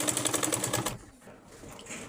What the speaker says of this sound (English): stay tuned while I sew it